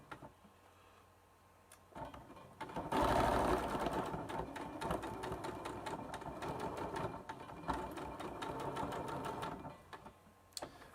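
A sewing machine stitching a quilt block seam, a fast rattling hum that starts abruptly after a quiet moment, runs steadily for several seconds with slight speed changes, then stops.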